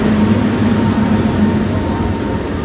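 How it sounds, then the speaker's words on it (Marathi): A train pulling into Kalyan station, its steady loud rumble and a low droning hum filling the air close by, with no voices over it. "फायनली आपली गाडी आलेली आहे"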